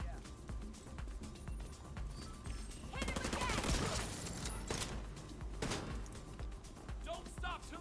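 Pistol and other gunfire in The Division 2 video game, a loud clatter of overlapping shots and mechanical clicks running steadily through the clip with voices over it.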